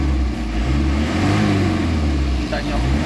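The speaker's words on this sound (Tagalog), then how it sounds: "Kita nyo, ang galit ng makina, hindi na basta-basta." An Isuzu Crosswind engine, freshly repaired after a low-power fault, revs hard and steadily up close, a loud continuous roar with slight swells, while someone talks over it.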